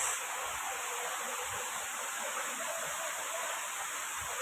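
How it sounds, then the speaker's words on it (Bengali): Waterfall at Debotakhum in Bandarban, a steady, even wash of rushing water that stays constant and fairly soft throughout, with no other sounds standing out. "আমরা ঝর্ণায় চলে এসেছি। এই যে সামনে ঝর্ণা দেখা যাইতেছে।"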